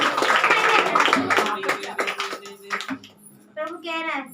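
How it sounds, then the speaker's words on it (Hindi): A church congregation claps along at a Hindi-language prophetic prayer service in Jabalpur, with brisk rhythmic hand claps mixed with voices and speech throughout. "ताली बजाएंगे, हालेलुया।"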